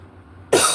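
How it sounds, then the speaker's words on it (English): A single short, sharp cough bursts out after a moment of near silence, close to the microphone. "Forgive my coughing."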